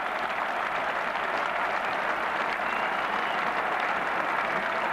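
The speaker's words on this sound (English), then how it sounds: "Applause, which is perhaps relieved from the dressing room balcony there." Cricket crowd at the 1993 NatWest Final, Sussex against Warwickshire, applauding a batsman's fifty; dense, even clapping from a large distant crowd holds steady throughout without a break.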